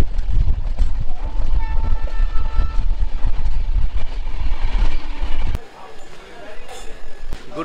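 A passenger train runs through the night from Kolkata after leaving Bardhaman, with a loud, steady rumble and rattle of the carriages and a horn, which drops to a quieter hum near the end.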